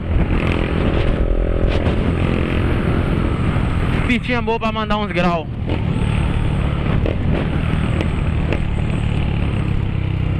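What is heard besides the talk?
motorcycle riding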